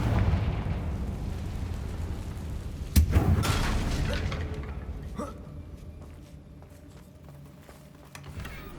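A Confringo fire spell blasting in Hogwarts Legacy near a damaged bridge, with a sharp impact about three seconds in over heavy rumbling that slowly fades, followed by a smaller thud and lingering debris noise.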